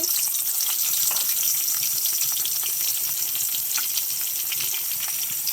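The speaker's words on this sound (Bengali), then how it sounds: "প্রথমে আমি তেল বসিয়ে দিলাম তেলটা এখন গরম হচ্ছে তারপরে পেঁয়াজ কুচি দিয়ে দিচ্ছি দুইটা পেঁয়াজ কুচি" Two chopped onions fry in hot oil as the base of a beef curry, producing a dense, continuous sizzle and crackle that holds steady and fairly loud throughout.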